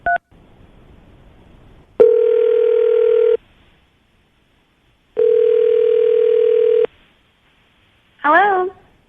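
A steady telephone dial tone sounds in two long bursts separated by silence, with a brief short tone at the start and a quick chirpy beep near the end.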